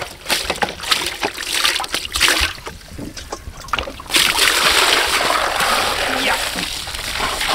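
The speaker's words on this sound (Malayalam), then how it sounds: "ഇതിലേക്ക് നമ്മൾ വെള്ളം ഒഴിച്ചു കൊടുക്കാം." Water is poured over a large 5 kg fish to wash it before grilling: scattered splashes and drips at first, then a strong, steady gushing pour that continues to the end.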